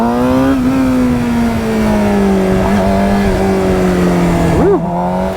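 A motorbike engine revs steadily while its rider pops the front wheel up in a short wheelie, a loud sustained drone with a brief pitch swoop near the end.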